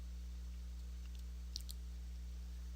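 A single sharp mouse click on a software preview button, brief and close, over a steady low electrical hum.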